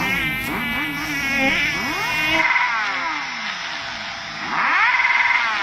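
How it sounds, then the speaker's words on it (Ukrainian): A mosquito whines in a comedy sketch, a thin, high buzz that drones in and out in close passes, swelling louder near the end over a faint background. "Випускайте комара."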